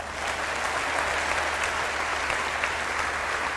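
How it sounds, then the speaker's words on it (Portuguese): A crowd at an evangelical preaching event applauds for Bolivia, producing a thick, continuous roar of clapping that stays level and close throughout, unbroken by speech. "E um aplauso especial para Bolívia."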